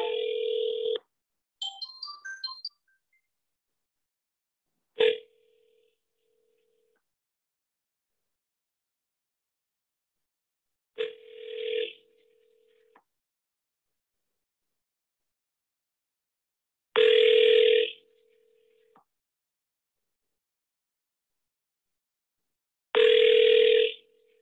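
An outgoing telephone call rings out through the handset, with tones and beeps at the start followed by a steady ringback tone repeating at long regular intervals with silence between.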